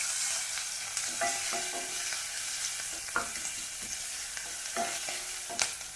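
Curry leaves frying in a pan, a continuous close hiss broken by scattered crackles and the scrape and tap of a spoon stirring.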